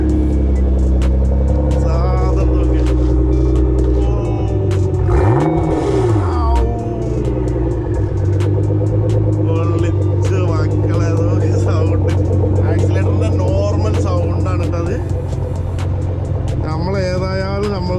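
A Nissan GT-R engine revs loudly and close by, with a deep steady drone and one sharp rise and fall in pitch partway through.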